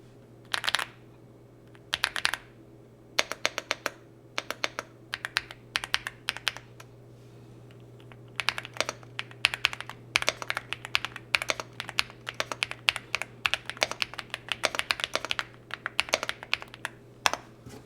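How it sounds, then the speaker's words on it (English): Typing on an EpoMaker Galaxy 80 gaming keyboard: close, crisp key clacks in quick irregular bursts with short pauses between runs, over a faint steady hum. "the EpoMaker Galaxy 80 gaming keyboard"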